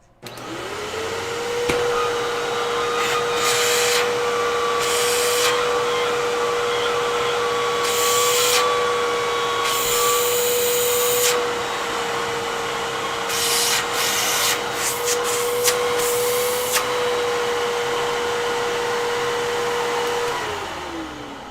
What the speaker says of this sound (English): Maybe it was just the brush and not the actual vacuum itself.